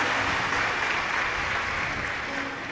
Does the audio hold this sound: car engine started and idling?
no